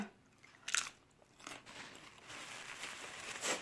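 Crisp crunching bites of fresh green onion eaten with pork larb, a few sharp crackly bursts followed by steady close chewing, no talk.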